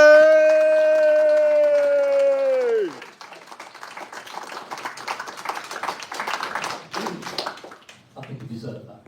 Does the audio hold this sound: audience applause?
yes